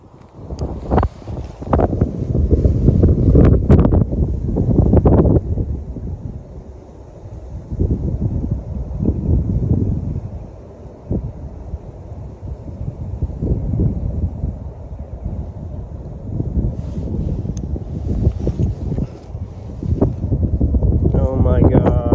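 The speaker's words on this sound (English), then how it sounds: "It's so windy." Strong wind gusting outdoors in a backyard while fishing, loud buffeting rumbles batter the microphone in repeated waves, with people talking intermittently.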